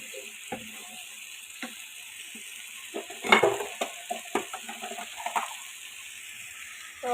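Spice paste roasting in oil for a shrimp bhuna, with a steady low sizzle broken by clicks and scrapes of stirring in the pan, a brief louder burst of activity midway and no voices.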